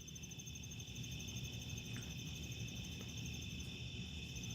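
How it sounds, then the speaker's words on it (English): Crickets chirp outdoors at night in a steady, unbroken high trill, faint and distant over a low background rumble, with no one talking. "Sitting out here listening to the crickets, partying."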